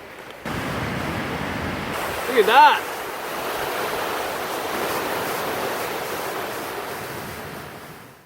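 A rain-swollen river in Uwharrie National Forest rushes in winter, a steady broadband roar of fast water close by that runs the whole way through, with a brief spoken remark in the middle.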